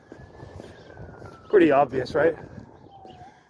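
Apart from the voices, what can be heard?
siren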